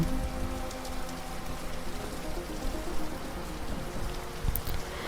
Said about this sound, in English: you immediately notice the rain has gotten harder since you arrived